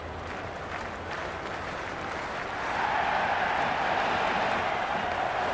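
A cricket stadium crowd applauds and cheers in a dense, steady roar that swells louder about halfway through and holds there, with no clear voices above it.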